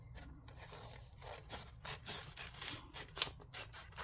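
Quiet scissors snip and rub through fabric while a tag pocket is being cut, a string of soft close rasping strokes with one sharper click near the end.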